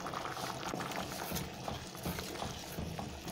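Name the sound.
beans boiling in water in pot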